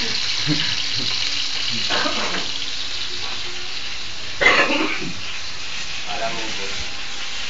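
Food fries in a pan, a steady close sizzle running underneath, with a brief louder flare and some coughing and casual talk over it.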